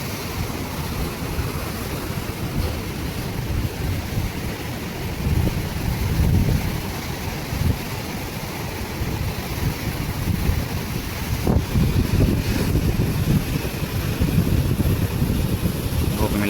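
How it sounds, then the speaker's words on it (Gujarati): Ocean waves surge and crash around boats at sea, a loud, continuous broadband roar with heavy wind buffeting the microphone throughout. "ઓહો તો કેવા મોજા ઉછળે છે"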